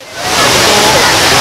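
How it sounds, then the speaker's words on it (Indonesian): Legomoro waterfall, a new tourist spot in Margo Mulyo, roars as a loud, dense broadband rush of falling water that builds quickly and holds steady, close and continuous. "Air terjun Legomoro."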